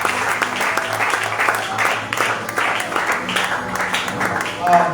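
A church congregation applauding during a French-language service, a sustained wash of clapping from many hands, with voices and music mixed in underneath.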